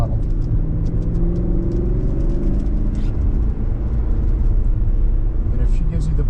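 An Audi on a race track during a track day pulls hard with a loud, droning engine roar that stays near and continuous, as an instructor's voice talks over it.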